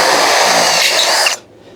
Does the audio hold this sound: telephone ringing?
no